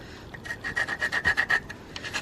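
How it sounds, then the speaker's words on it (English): Caked brake dust being scraped off a seized Brembo brake caliper on a Subaru, a run of quick rhythmic rasping strokes, close and clear, with no voices. "So literally a little scrape like that should help it go in easier."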